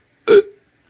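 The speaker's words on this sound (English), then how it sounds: "these fucking hiccups" A single sharp hiccup-like gulp from a person, close and abrupt, with a short trailing voiced tail, alone in silence.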